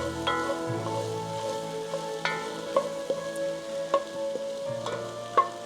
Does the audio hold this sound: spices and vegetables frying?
yes